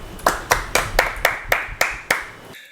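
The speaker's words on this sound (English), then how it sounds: "Round of applause, everyone." Eight crisp, evenly spaced hand claps ring out close and loud, a small steady round of applause in a quiet room that stops abruptly.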